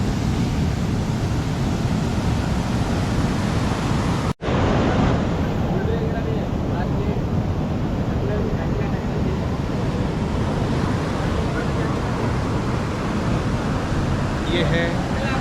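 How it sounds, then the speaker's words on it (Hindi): Sea waves at Agonda Beach in South Goa, a loud steady roar of surf mixed with strong wind buffeting the microphone, broken by one brief dropout. "ये है एगोंडा बीच, साउथ गोवा का बेहतरीन बीचों में से एक एगोंडा बीच।"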